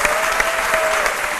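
A studio audience on a daytime talk show claps loudly and continuously, a thick, close burst of applause with faint voices mixed in.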